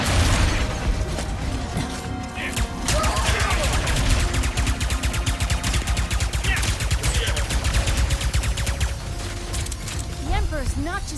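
Sustained gunfire in the video game Ratchet & Clank: Rift Apart, a dense, loud stream of rapid shots and popping bursts with mechanical clatter running without a break for the whole stretch.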